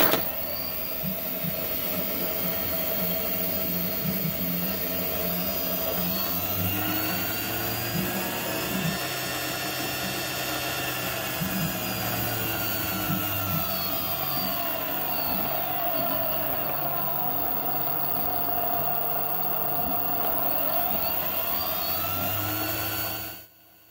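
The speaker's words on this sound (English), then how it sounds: "the motor starts spinning" A brushless DC motor spins under an electronic speed controller, giving a steady close whine with tones that sweep up and down as the speed changes, and it runs alone until it cuts off at the end.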